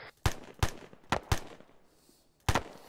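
Rapid gunfire during section training with the 6th Airborne Division: five sharp, loud shots in quick succession, closely spaced, then a short pause before the last one.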